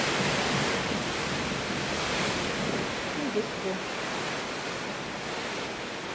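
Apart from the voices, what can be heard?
strong gusty wind of typhoon Tino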